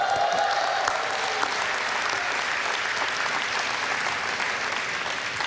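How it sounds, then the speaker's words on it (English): Graduates and guests at an autumn graduation ceremony applaud in a sustained, dense wash of clapping that holds steady throughout, with no distinct voices over it. "it's clear that you cheer for one another as though you are family"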